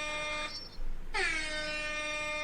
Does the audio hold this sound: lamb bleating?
no